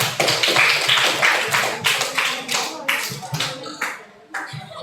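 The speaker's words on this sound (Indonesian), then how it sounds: "tepuk tangan dulu untuk diri" Schoolchildren in a classroom clap for themselves after a buying-and-selling role-play, a lively mix of scattered and grouped claps that fades toward the end, with some voices mixed in.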